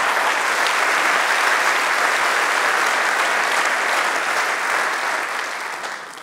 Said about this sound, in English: I would like to have an applause for Van Harte.